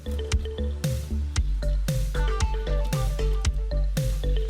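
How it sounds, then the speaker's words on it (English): Chopped peppers, onions and garlic drop into oil in a saucepan that is not yet very hot, making a series of close, wet plops and squishes at a regular pace with no real sizzle. "we're going to go ahead and add in all of our peppers and onions and garlic"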